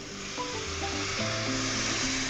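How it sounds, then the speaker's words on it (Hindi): Water poured into a sizzling pan of aloo tamatar curry, giving a steady, close, loud hiss and crackle of frying that holds through the whole moment with no talking. "ये गया पानी"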